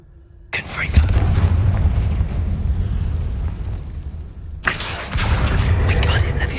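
A Confringo fire-blast spell bursts in Hogwarts Legacy with a deep booming explosion and rumbling roar, followed by a second heavy blast, loud and close over game ambience.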